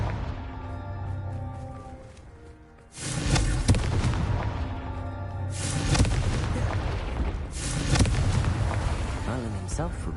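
The Confringo blasting spell in Hogwarts Legacy sets off heavy booming explosions, one large blast followed by rolling rumbles and further bursts, loud and close, over a low ambient hum.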